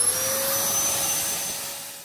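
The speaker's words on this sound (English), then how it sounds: "Be very careful with the vacuum," A vacuum cleaner runs steadily and fairly loud with a high whine, used while changing the headlight lens on a 2004 BMW R1200GS motorcycle; the sound holds throughout and fades slightly at the end.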